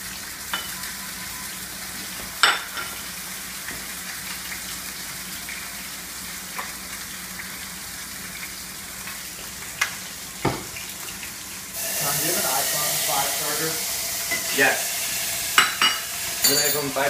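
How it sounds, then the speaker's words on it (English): Salmon fillet laid skin side down in a hot pan hisses into a sustained sizzle that swells sharply partway through, with a few clinks and handling knocks along the way. "Sizzle, baby!"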